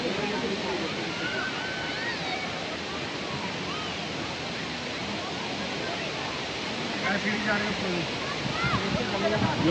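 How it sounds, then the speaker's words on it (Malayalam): An artificial waterfall at a hanging garden in Kalba, Sharjah, pours steadily with a dense, continuous rushing roar, close and fairly loud, and voices talk over it. "ഈ വെള്ളച്ചാട്ടത്തിൻ്റെ ഒരു മൊത്തത്തിലുള്ളൊരു പ്രതീതിയും ആ ഒരു ആംബിയൻസ് ആയിരുന്നു കേട്ടോ അവിടെ"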